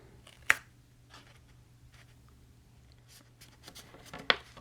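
Scissors snip through the bottom of a paper greeting card, with two sharp, close cuts separated by quiet rustling and light handling of the paper, and no talking.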